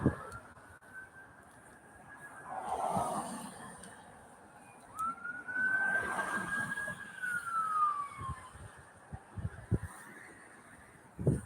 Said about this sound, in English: here comes a mental hospital ambulance